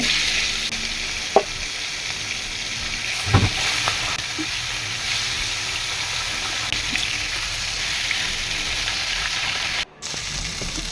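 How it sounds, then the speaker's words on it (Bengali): Fish rubbed with salt and turmeric sizzles continuously in hot oil in a kadai, with a few brief clinks and stirring knocks. A short break comes near the end, and there is no speech. "তেল গরম করে মাছটা ভেজে নেব"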